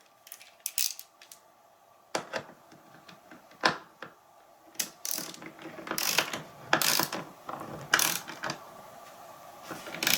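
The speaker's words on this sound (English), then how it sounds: "I'm going to go ahead and tighten this one up first" A bolt being tightened on a La-Z-Boy recliner during repair, ratcheting clicks in irregular bursts up close, sparse at first and then quicker, clustered clicking toward the end, with no talking.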